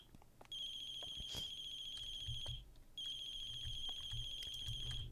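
A mobile phone ringtone rings in repeated bright, high electronic bursts, two long phrases with a short gap between them, fairly close and steady over faint room noise.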